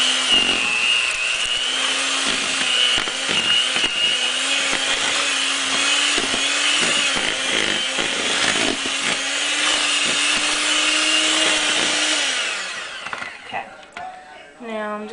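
Electric mixer running on low, beating softened butter for buttercream: a steady whirring motor hum with scraping texture runs for about twelve seconds under occasional talk, then cuts off, leaving faint clinks.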